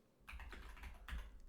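Quiet, steady tapping of computer keyboard arrow keys while navigating in a Linux terminal, a run of soft clicks with a brief cluster near the end, no voices.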